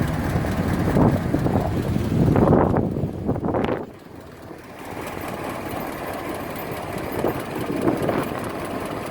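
A Model T Ford engine runs in Greenfield Village, with a rough mechanical churn that is loud for the first four seconds, then drops to a lower, steady idle-like drone with faint swells.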